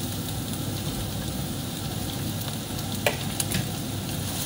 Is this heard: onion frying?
yes